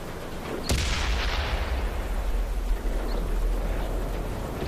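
A tank's main gun fires once in World of Tanks, an Xbox 360 game, in a sudden loud blast that settles into a long rumbling decay over the steady drone of the tank's engine.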